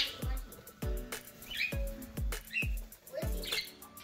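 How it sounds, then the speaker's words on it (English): Budgies and cockatiels indoors give scattered squawks and chirps among sharp thumping knocks, close and fairly quiet, with no talking. "it is a flurry of feathers and chirping and birds flying in circles"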